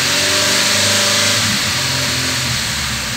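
A cold Chevrolet Vectra engine, just fitted with new tappets, runs loud and close with an uneven, stumbling idle that keeps rising and dipping, and a ticking tappet knock underneath.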